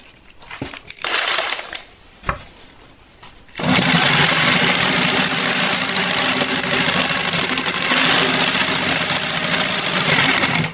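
A used electric jigsaw set to its first speed cuts steadily and loudly for about seven seconds, after a few brief handling knocks and a short startup burst, with no talking.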